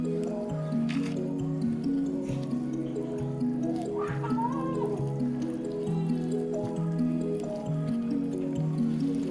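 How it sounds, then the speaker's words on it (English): Flour and water are mixed by hand for banana pancake batter, giving soft, wet squishing and slapping sounds that repeat in an irregular rhythm, close and fairly quiet, with faint background noise. "Add water and mix the flour."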